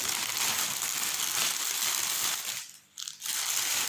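Continuous crinkling and crushing of paper up close, loud and steady, briefly dropping away near the end before resuming.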